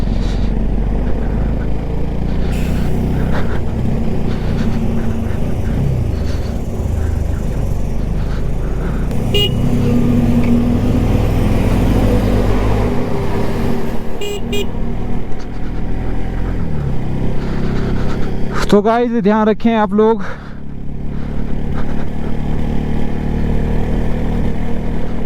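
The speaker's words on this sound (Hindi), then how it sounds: "बाइक फुल ऑन झटके खा रही है यार" A motorcycle jolting over a rough high Himalayan pass in Ladakh, its engine rumbling steadily throughout, with a short horn toot near the end and someone speaking briefly over the ride.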